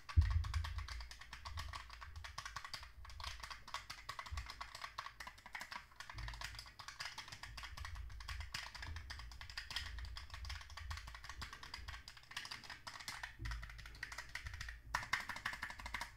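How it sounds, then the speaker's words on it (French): Fast, steady clicking of a computer keyboard typed behind a microphone, faint and somewhat distant, with a continuous patter of keystrokes and no voices. "on va voir ce que ça donne lorsque je tape sur un clavier derrière le micro"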